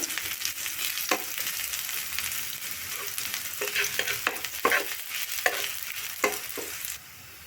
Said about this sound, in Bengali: ওই তেলেই একটা বড় সাইজের পেঁয়াজ দেব পেঁয়াজটা একটু ভেজে নেবো